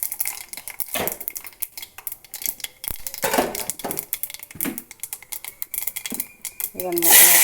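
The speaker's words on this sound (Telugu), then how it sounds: "ఇంకా ముక్కలు అయితే వేసేద్దాము." Chopped vegetable pieces for a tomato curry go into a pan already holding tempered seeds and curry leaves, clattering and scraping against the metal in close, uneven bursts, with someone talking in between.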